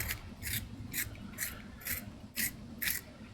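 A pencil being sharpened in a handheld pencil sharpener, giving a steady series of about seven short rasping strokes at an even rhythm, close and moderately loud, with no talking.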